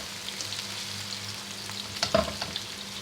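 Food sizzles softly in hot oil with a steady crackle, and a brief clatter of stirring near the end.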